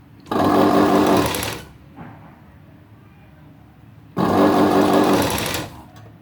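Sewing machine stitching a straight strip onto a blouse neckline: two loud sustained runs of rapid stitching, each about a second and a half, separated by a quieter pause with faint handling.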